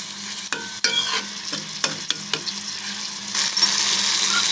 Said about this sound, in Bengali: এখন মশলাটাকে আমি ভালো করে কষিয়ে নেব।